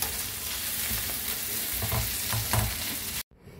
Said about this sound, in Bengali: সমস্ত সবজিগুলোকে তেলের মধ্যে খুব ভালো করে ভেজে নেব